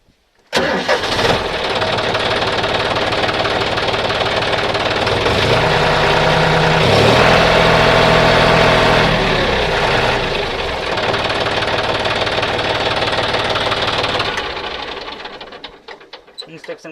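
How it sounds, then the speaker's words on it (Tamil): A John Deere 5045 D two-wheel-drive tractor engine cranks and catches after a second, then settles into a loud, close diesel idle with knocking rhythm, revving briefly in the middle before easing back and cutting off near the end. "வாங்க நம்ம வந்து இப்போது வண்டியை ஆன் பண்ணி இன்ஜின் சவுண்டை கேட்டு தெரிஞ்சுக்கலாம்."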